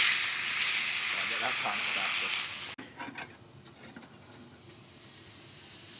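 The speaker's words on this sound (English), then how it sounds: "The garlic in the pan has caught fire." Garlic burning in a frying pan on a road-trip camp stove, a loud broad sizzling hiss for over two seconds that abruptly cuts to quieter crackles and faint clinks.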